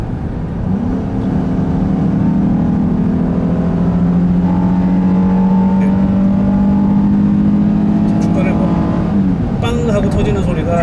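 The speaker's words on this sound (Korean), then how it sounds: "그럼 한번 풀악셀 소음 한번 들어보겠습니다" A gasoline Honda VTEC car engine revs hard under full throttle, its drone climbing steadily in pitch, heard from inside the cabin with a faint background hum.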